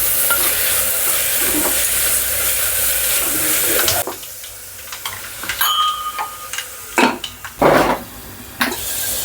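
Vegetables frying in a pan give a loud, steady sizzle for several seconds, then the sizzle drops away into close scraping and clattering of a spoon stirring them, in irregular bursts.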